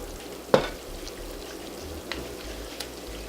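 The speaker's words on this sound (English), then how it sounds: "the tomato is simmering in with the salmon" Salmon simmering with tomato gravy in a frying pan gives a steady, soft sizzle throughout, broken by one sharp clack near the start and a couple of faint ticks later, close and fairly quiet.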